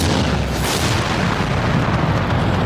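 Gunfire blast from the Ultramarines movie, a dense, sustained roar of explosive noise filling the whole stretch with no break and no voices.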